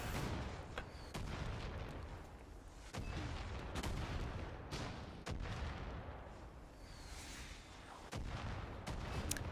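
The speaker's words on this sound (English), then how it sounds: "you can actually see all the mortar rounds going into the sky" Mortar rounds launching in Far Cry 5, a steady series of sharp, moderately distant thumps spaced a second or so apart over a continuous rumbling battlefield bed.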